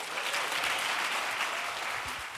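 At a gala, a large audience applauds after an ambassador's speech, a full, sustained wash of clapping heard from within the room that holds steady and tapers slightly at the end.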